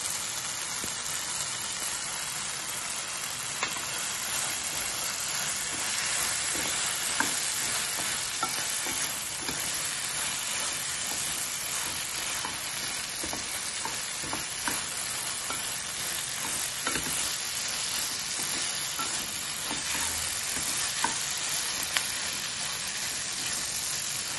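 Onions sizzle in a pan while gun powder spice mix goes in, a long, even crackling hiss with scattered sharp pops and occasional stirring scrapes, close and unbroken by speech.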